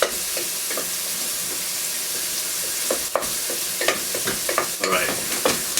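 A spoon stirring a melting cheese dip in a hot pan, a soft continuous sizzle broken by repeated scraping strokes against the pan, close and fairly loud, no talk.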